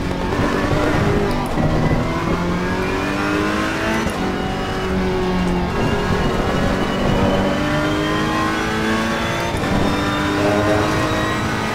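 A race car in Assetto Corsa Competizione brakes hard. The engine roars loudly and steadily throughout, with its pitch sweeping down and up through repeated gear changes and a faint hint of tire squeal.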